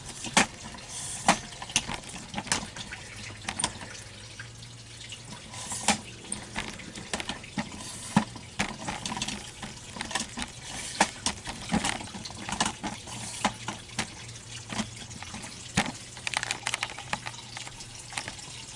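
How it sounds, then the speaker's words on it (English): Water trickles and splashes steadily into an aquaponics tank, a low continuous flow dotted with small irregular drips and clicks, moderately close. "the water right now is filling up in here"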